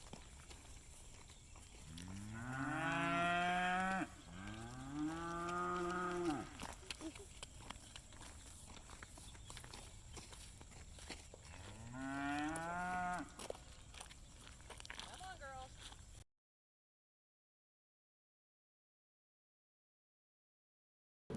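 Beef cattle moo loudly several times on a farm, two long calls close together, then a third after a pause, over low background noise.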